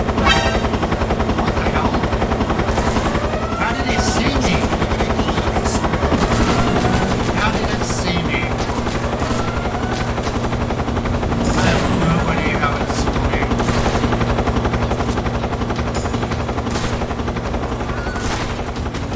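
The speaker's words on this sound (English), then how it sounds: "Helicopter is literally right there." Helicopter in Metal Gear Solid 3, a loud, sustained rotor roar held steady throughout, close by, overlaid with bursts of rapid gunfire, with a voice talking over it.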